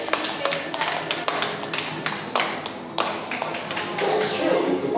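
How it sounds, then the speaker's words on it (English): Scattered claps and taps from an audience at an Israel pavilion show, irregular and fairly close, thinning out toward the end with a wash of crowd noise. "Let's give it a clap if you think that's right."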